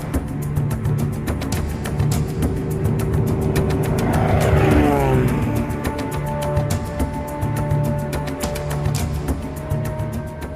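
A light aircraft carrying a passenger over farmland near the Limpopo River, steady droning propeller engine noise that swells briefly midway, loud and close, with no talk.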